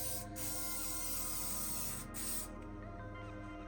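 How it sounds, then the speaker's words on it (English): Close hissing from an aerosol can comes in two sprays, a long burst and then a shorter one, before it cuts off and leaves a quiet hum. "What I'm going to do is spray it again to seal as much in as I can."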